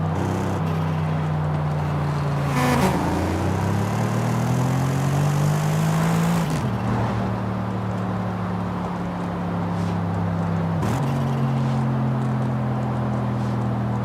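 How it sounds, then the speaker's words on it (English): Twin-turbo 4-liter V8 in Forza Horizon 5, a steady droning engine note that rises through the revs and drops with each gear shift, heard alone without voices. "This thing's a 4-liter V8 with 2 turbos, so this thing's perfect. And it sounds like a freaking monster."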